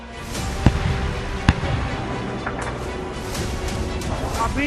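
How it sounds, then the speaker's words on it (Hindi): Two sharp, booming thuds stand out over a steady rumbling background, distant wartime explosions in Kyiv, followed by continuous low noise. "अभी 2 सेकंड पहले जब आप बोल रहे थे एक और बड़ा धमाका हुआ है"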